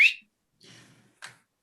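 Short bright whistles from a person on a stage-play set: one sharp opening whistle, then a softer, drawn-out note and a brief final chirp, with pauses between them.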